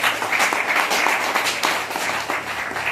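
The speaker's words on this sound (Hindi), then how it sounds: "एक बार जोरदार तालियां।" Dense, steady applause from a large crowd, loud and sustained throughout.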